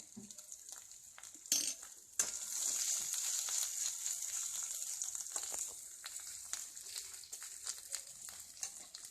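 A thick mustard spice paste for bhetki fish kosha sizzles in hot oil with a soft steady hiss, after a couple of sharp scrapes, then scattered small crackles and taps.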